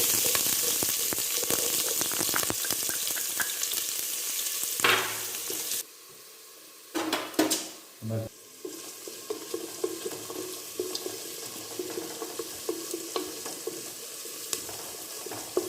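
Garlic and chopped onion frying in a pan for chicken majboos, a loud steady sizzle that briefly cuts out, then bursts back with a few clattering stirs and continues crackling steadily.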